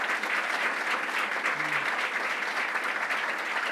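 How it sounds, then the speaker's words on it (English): Crowd applause at an outdoor announcement at the New York State Fair, a dense, even round of clapping from many people, sustained and fairly loud for nearly four seconds, with a faint voice briefly audible beneath it. "Let's give another round of applause to Commissioner Ball."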